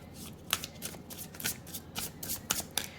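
Tarot cards being shuffled close up, a quick run of crisp riffling bursts and soft slaps repeated in an uneven rhythm with no voices.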